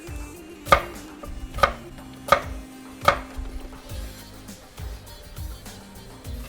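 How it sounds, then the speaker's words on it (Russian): A knife chopping garlic into large pieces on a board, with four clear, evenly spaced chops up close followed by softer, quieter cuts. "ну а чеснок нарезать довольно крупными кусками"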